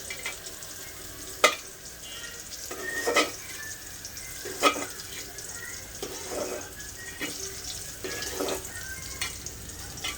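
Lightly fried ingredients are stirred into meat in a pan, with a steady sizzle under repeated scraping and clinking of a spoon against the pan, quiet and close.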